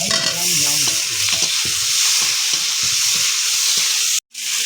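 Tomato stirred into onions sizzling in a pan with panch phoron for a pond fish curry, giving a loud steady sizzle with rhythmic scraping strokes of a spatula, close up, then a brief break near the end.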